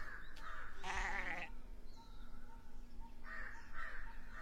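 A goat lets out a loud, wavering bleat, followed later by harsher animal calls over a steady outdoor background.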